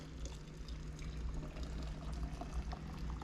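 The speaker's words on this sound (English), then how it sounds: "Now we're going to fill this with boiling hot water." Steady pouring of boiling water into a jar with sugar, a continuous trickling, splashing stream filling it, close and fairly quiet, with no voices.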